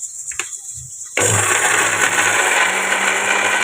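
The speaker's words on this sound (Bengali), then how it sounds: "আদা জিরে কাঁচা লঙ্কাটা নিয়ে নিয়েছি," An electric mixer grinds ginger, cumin and green chilli into a paste: a few faint taps, then the motor starts abruptly and roars loud and steady for about two and a half seconds before stopping.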